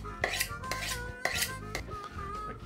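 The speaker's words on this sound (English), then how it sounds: "I'm going to go ahead and run my knife over my steel a couple times" A kitchen knife drawn a couple of times along a sharpening steel beside a wooden cutting surface, giving bright metallic scraping strokes at an irregular pace, close and moderately loud with no talk.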